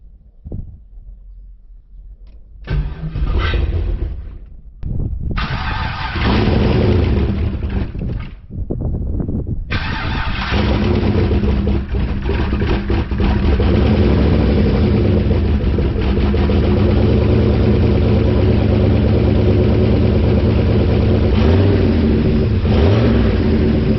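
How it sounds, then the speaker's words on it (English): A car engine cranks and catches, stumbles and cuts out, then fires again and settles into a loud, steady idle. The restart comes after the transmission has been reinstalled, and the engine runs on without pause to the end. "So I'm about to fire it up."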